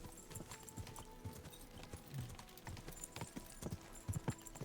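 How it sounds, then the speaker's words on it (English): Horse hooves clip-clop in the medieval world of Kingdom Come: Deliverance 2, a steady run of soft, near footfalls over a busy game background with other faint sounds. "What a beautiful horse!"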